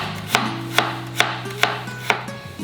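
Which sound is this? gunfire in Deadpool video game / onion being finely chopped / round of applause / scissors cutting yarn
onion being finely chopped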